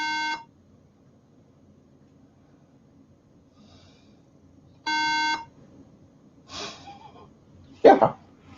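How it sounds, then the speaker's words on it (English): A 2008 MacBook Pro with no memory installed gives a harsh, buzzy beep, falls silent for several seconds and beeps again, followed by a few faint handling clicks and a thump. "So it likes to beep when there's no memory in it."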